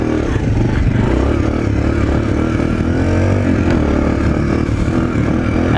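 A Suzuki DR-Z 125L motorcycle engine runs on the move, a loud, constant droning buzz with steady throttle and a slight rattly edge, heard close up with no voices.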